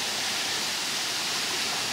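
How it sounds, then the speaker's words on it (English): Twin waterfall pouring into a swimming hole, a dense, even roar of falling water filling the scene with constant broadband rush, no voices heard. "So this is another waterfall"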